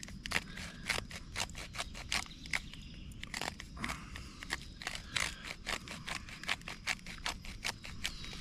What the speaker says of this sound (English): I can smell it as I'm grinding it up here